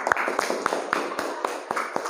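A classroom of students claps briefly, sparse and uneven handclaps in quick succession with a faint voice underneath.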